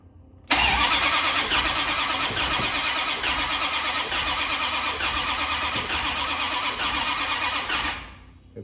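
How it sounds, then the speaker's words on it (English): A Dodge D100 pickup truck's engine fires up for the first time after a roller camshaft and head swap, catching abruptly and running loud and rough at a steady idle for several seconds before cutting off, recorded up close. "We should be making noise soon. First, official startup."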